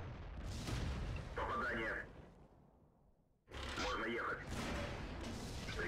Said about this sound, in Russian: Они нас слева стреляют